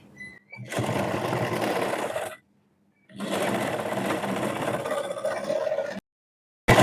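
A sewing machine stitches semi patiala pants from the leg hem upward, running in two long, steady whirring bursts separated by short pauses, close and alone.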